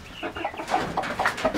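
Backyard chickens cluck in short, bright bursts, several close calls overlapping with a few sharper notes, over a faint outdoor background.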